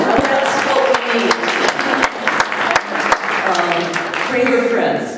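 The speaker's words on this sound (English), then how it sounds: "I think they should get an applause" Audience applause at a town hall meeting, a loud, fairly close run of clapping with sharp individual claps standing out, while people talk and murmur underneath throughout.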